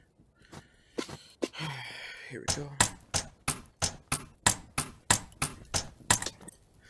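Stone hammer striking repeatedly in the video game A Township Tale, a steady run of sharp, evenly spaced knocks about two per second, loud and close, following a brief stretch of speech and rustling at the start.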